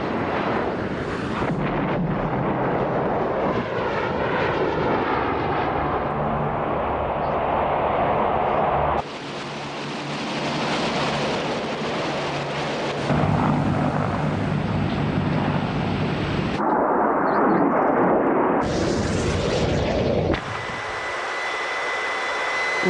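Military Harrier vertical-takeoff jets roar loudly and continuously, a dense, powerful engine noise with abrupt changes in character as the scene shifts, and no speech.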